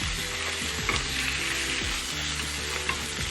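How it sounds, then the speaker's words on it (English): Mackerel curry sizzles loudly in a pan while coriander is stirred through it, a continuous frying hiss broken by repeated scraping strokes of the spoon and with no voices. "I like to mix my coriander into my food."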